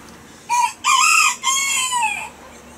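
A rooster crows loudly and close by, one long drawn-out call in several rising and falling segments, with no talking around it.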